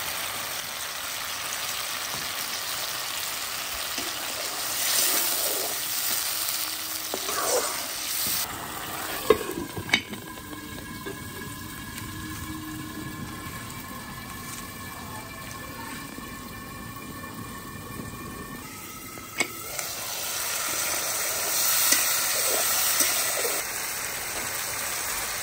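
Spices, turmeric and salt frying in hot oil for a dried fish and eggplant curry, a steady close sizzle with scraping stirs, a quieter stretch in the middle, then the frying rises again.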